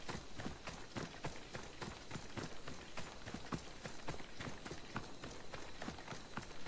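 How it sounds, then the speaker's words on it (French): Horse galloping in a video game, a fast steady run of hoofbeats repeating evenly throughout over a constant background hiss, with no other sounds standing out. "Attends, il est à cheval"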